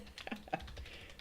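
Someone types on a computer keyboard at a desk while coding a Breakout-style game, producing a short burst of irregular, close clicks and key taps with no speech.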